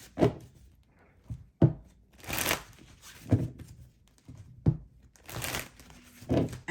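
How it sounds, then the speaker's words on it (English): A deck of tarot cards is shuffled by hand in quick, soft riffling bursts, each about a second apart with short pauses between. The sound is close and fairly quiet, with no talking. "I'm going to do a quick shuffle."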